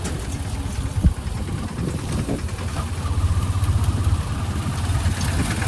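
Tractor engine running steadily on a rough village road, a low chugging idle with a thump near the start, continuous and fairly close throughout.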